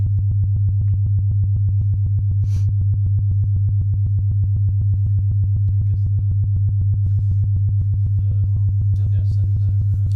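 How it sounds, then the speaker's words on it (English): A steady, pure low sine tone from a Waldorf Iridium synthesizer hums continuously at constant loudness, with faint clicks and small noises in the background. "It's just a sine wave."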